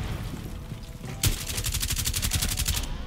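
Rapid automatic gunfire in the tactical shooter game Rainbow 6 Siege, a sustained burst of evenly spaced shots starting abruptly and continuing loud and close for about two seconds.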